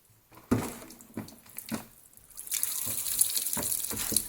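Water runs and drips over the door seal of a Land Rover Defender with a blocked drain hole, close up: a few separate splashes and drips, then a steady pouring stream spilling over the top for the last couple of seconds.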